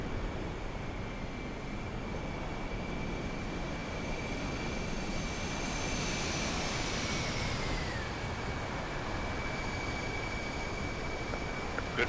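Aircraft flying past over a carrier deck in the DCS flight sim, with a steady broad roar and a rising then falling whine that swells near the middle of the pass.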